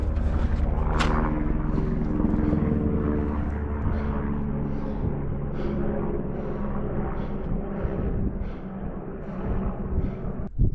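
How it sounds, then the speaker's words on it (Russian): A helicopter flies over the Altai mountains, its steady low rotor drone loud and continuous throughout, with no talking. "Вертолеты тут летают"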